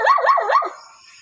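A dog gives three quick, loud barks in a rapid rising-falling pattern, close by, in a residential area of Barobo, Surigao del Sur, with no talking.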